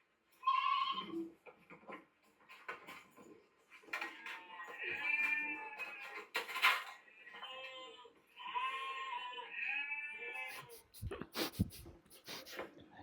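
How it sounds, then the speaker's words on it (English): Recorded sheep bleating played back during an online lesson, with several wavering bleats spread across the clip over a steady background, fairly loud and close, and a short clatter near the end. "we're playing sheep noises"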